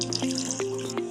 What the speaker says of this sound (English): So next I am going to add water.